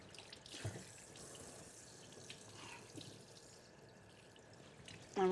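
Tap water running in a kitchen sink while meat is rinsed for schnitzel, a steady, soft splashing stream close by that ends with a louder burst.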